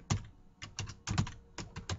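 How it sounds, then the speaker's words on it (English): Keys on a computer keyboard are struck in short, irregular clusters of crisp clicks and taps, close and fairly quiet, with no voices. "I will type"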